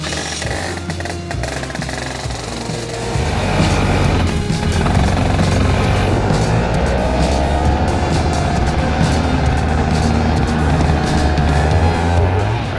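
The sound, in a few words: racing kart engine driving on a track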